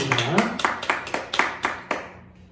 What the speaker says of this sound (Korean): 생일 맞으신 분들이 우리 축하 박수 드리겠습니다